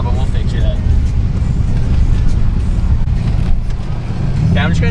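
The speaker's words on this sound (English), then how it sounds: "My exhaust is like really shitty." A Nissan 300ZX with a leaky, clamped exhaust is driven in the rain. Its engine gives a loud, steady low rumble with a rough, gravelly edge that runs the whole time.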